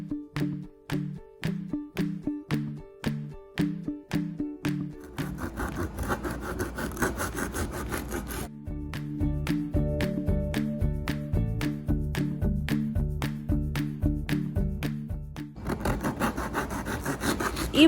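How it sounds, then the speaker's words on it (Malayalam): A knife saws through hard garlic bread, cutting it into oval slices, with steady back-and-forth rasping strokes in quick rhythmic runs, loud and close, with no voices. "ഇതിനെ നമ്മളൊരു ഓവൽ ഷേപ്പിലാണ് നമ്മൾ കട്ട് ചെയ്തെടുക്കാൻ പോകുന്നത്"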